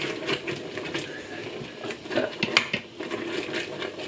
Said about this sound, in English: you can really hear it on the surface now, the pan, as I'm whisking